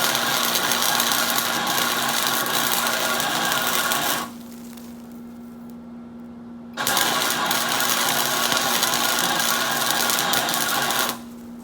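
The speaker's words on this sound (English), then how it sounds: "I'll just weld this up real quick" A welder fusing a joint, with a loud steady buzzing arc for several seconds, a pause of near silence, then a second continuous burst that stops abruptly.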